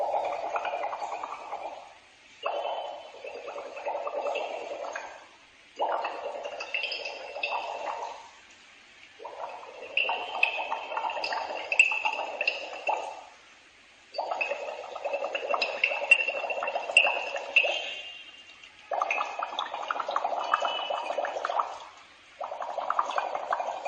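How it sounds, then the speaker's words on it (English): Air blown through a straw into a beaker of clear lime water bubbles in repeated bursts of a few seconds each, separated by brief pauses, fairly quiet and close, without any talk. "We are going to blow air inside clear lime water."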